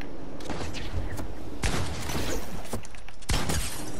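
Gunfire in the video game Fortnite, with several sharp shots and cracks over a busy, loud background, spaced irregularly across the moment.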